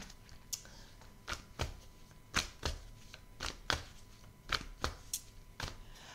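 Belline oracle cards are shuffled and drawn, giving a series of crisp, papery flicks and soft slaps at an irregular rhythm. Close by and fairly quiet, with no voice.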